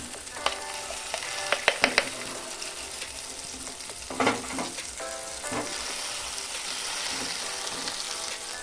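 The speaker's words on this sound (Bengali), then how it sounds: "কড়াইশুঁটির পেস্টটা এর মধ্যে দিয়ে দেব" Green pea paste fries in oil with black cumin for pea kachori filling, a close, continuous sizzle broken by sharp scraping and tapping clicks of stirring.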